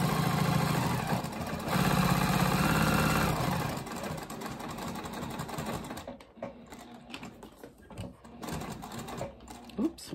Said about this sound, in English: now I'm going to stitch 1/8 inch around the entirety of that top color